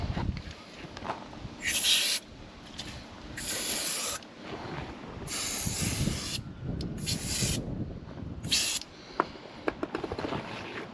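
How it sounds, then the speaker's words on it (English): Several short bursts of silicone spray hiss close by onto the seals of a toilet cassette, separated by rubbing and handling noises of parts being worked on. "I'm just going to use a bit of silicone spray on the seals"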